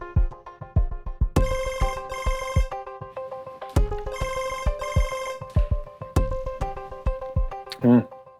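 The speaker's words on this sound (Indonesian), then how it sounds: "Gue harus telepon Sena nih" A phone ringtone plays in repeated bursts of bright electronic tones over a steady rhythmic beat, loud and close, ending with a short voice-like sweep.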